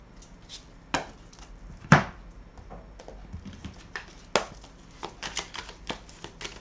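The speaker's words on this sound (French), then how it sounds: "je vais juste enlever celle-ci, hop. Et je vais recouvrir avec le tarot." Tarot cards are laid down and handled on a surface, with soft irregular taps and slaps close by and a couple of sharper placements, and no talking.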